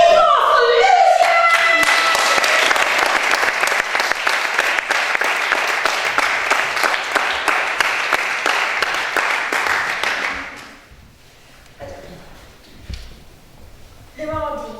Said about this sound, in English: But a big applause for Lucia!